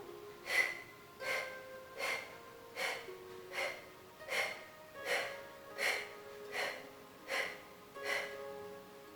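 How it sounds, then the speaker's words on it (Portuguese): Breath of fire breathing exercise during a home rejuvenation workout: about eleven sharp, forceful nasal exhalations at an even rhythm roughly once per second, close and clear against a quiet room. "Respiração do fogo."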